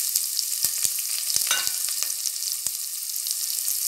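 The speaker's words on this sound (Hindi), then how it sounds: "प्याज और गाजर हम अच्छे से भूनने देंगे।" Chopped onions and carrots frying in a pan, a bright continuous sizzle up close with sharp clicks and scrapes from stirring.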